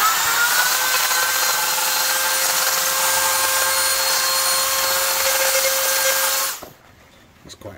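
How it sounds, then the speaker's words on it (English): A small Dremel rotary grinding bit works on a motorcycle rectifier/regulator, giving a loud, steady high-pitched whine for about six and a half seconds before cutting off abruptly into near quiet. "I'm going to have a go with this little grinding tool on my Dremel."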